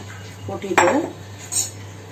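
Finger millet (ragi) going into a hot kadai makes a short metallic clatter and scrape of a utensil against the pan, one sharp clink and a softer second touch over a faint background hum.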